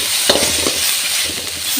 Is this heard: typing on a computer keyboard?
no